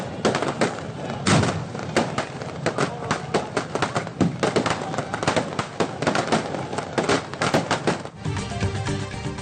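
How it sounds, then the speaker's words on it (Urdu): Dense, loud fireworks display at an Independence Day celebration at Teen Talwar, Clifton, Karachi, with rapid overlapping bangs and crackles throughout, a brief lull near the end. "کراچی میں کلفٹن 3 تلوار پر جشن آزادی کی تقریب میں شاندار آتش بازی"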